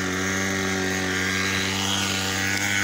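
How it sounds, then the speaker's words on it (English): A small student-built mini aircraft at a university talent display in Delta State, Nigeria, taking off: a loud, steady motor-and-propeller drone with strong humming tones, continuous throughout without talk. "As you can see, the flight is about to take off."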